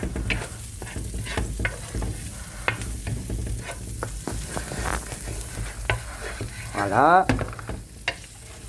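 Seafood tossed with parsley and garlic in a pan, stirred and sautéed with a steady close sizzle and scraping strokes; a voice speaks briefly near the end.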